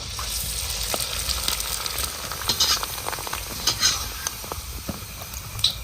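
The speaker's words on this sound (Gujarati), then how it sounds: "तो मित्रों आप तेल गरम થઈ ગયો તો આપણે ફાફડા તળી દઈએ." Fafda frying in hot oil in a village kitchen: a steady, dense sizzle with scattered sharp crackles and pops and a few brief stirring knocks, heard up close with no talking.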